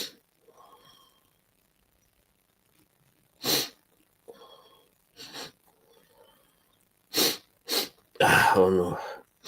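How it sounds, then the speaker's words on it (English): A person sniffs several times in short, separate bursts between quiet pauses, close by, with a louder breathy burst near the end. "Oh no, I'm sniffing."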